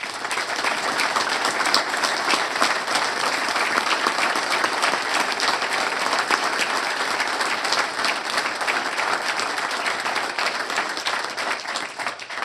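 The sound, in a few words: audience applause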